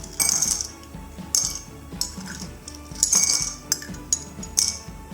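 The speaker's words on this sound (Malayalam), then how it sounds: "ടോൾ ഗ്ലാസ്സിലേക്ക് ഐസ് ക്യൂബ് ചേർക്കാം." Ice cubes drop one after another into a tall glass for lime juice, making several bright clinking knocks in irregular bursts, close and fairly loud with no talking.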